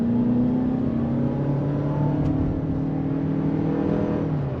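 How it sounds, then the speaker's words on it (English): A 2024 Toyota RAV4 Woodland Edition's engine pulls under throttle inside the cabin, a steady droning hum whose pitch rises gradually and evenly with no gear shifts, holding loud throughout. "just hearing the engine pushing, and then as soon as you let off throttle, it just drops"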